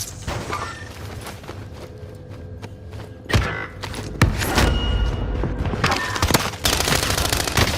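Automatic gunfire from the video game Warzone, including a CW MP5 submachine gun, crackles in sharp bursts with loud close shots and scattered cracks over a steady rumble.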